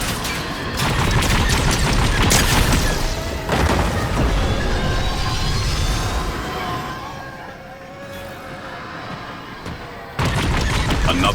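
Video game gunfire rattles in dense bursts and booms, loud and close, fading in the middle before a final sharp crack, with a voice talking underneath.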